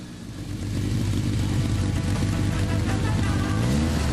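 A race car runs a lap on a track, its engine humming and revving steadily, fairly close and continuous with no talk.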